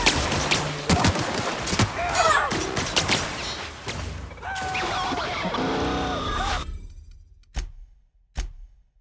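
Gunfire in The Outer Worlds: bursts of rapid shots and sharp impacts with clanks and combat voices, then a pause and two final loud single shots.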